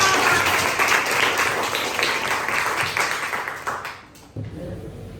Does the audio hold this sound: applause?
yes